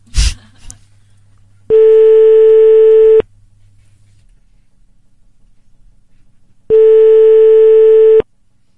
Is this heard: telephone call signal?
yes